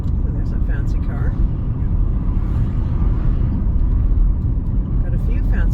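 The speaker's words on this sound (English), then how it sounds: "Got a few fancy cars." Traffic noise from cars passing on a street at an intersection on a grey day, a steady broadband road rumble throughout with no single distinct pass-by standing out.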